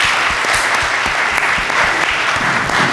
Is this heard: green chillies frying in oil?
no